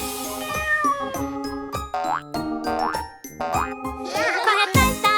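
A kitten's meow sung within a cheerful Portuguese children's song about farm animals, with musical tones and playful boing effects over steady accompaniment.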